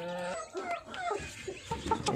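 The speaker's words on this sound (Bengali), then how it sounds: "মুরগির বাচ্চা আজকে থেকে ফুটতেছে। এই যে ফুটছে কয়েকটা," Freshly hatched chicks cheep in quick high bursts close by, with some lower clucking underneath, fairly quiet overall.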